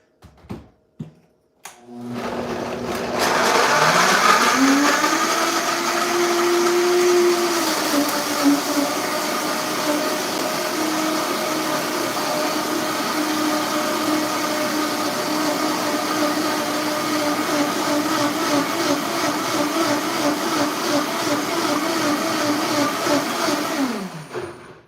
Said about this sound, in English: So let's go to the blender.